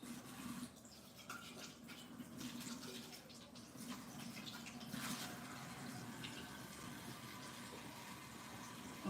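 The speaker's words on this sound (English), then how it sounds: "I'm just gonna rinse them out." Water runs faintly and steadily from a tap as canning jars are rinsed out in a kitchen sink, a quiet, continuous splash with a soft knock at the end.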